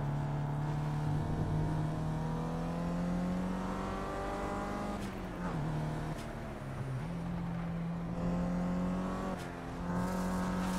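A race car engine in Project Cars holds a steady high drone with a couple of quick dips and rev changes, loud and continuous for about eleven seconds with no talking.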